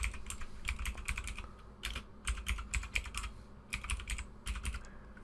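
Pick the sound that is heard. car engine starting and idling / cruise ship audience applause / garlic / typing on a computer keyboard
typing on a computer keyboard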